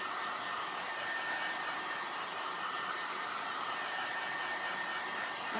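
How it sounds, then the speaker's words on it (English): A hair dryer roars steadily while drying paint on a mirror being decorated, a close, constant airy whoosh that holds unchanged throughout, with no one speaking. "So I use a dryer for 1 moment"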